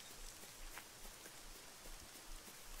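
Steady rain in The Good Life video game patters softly and evenly, a faint continuous hiss of drops on surfaces with no voices.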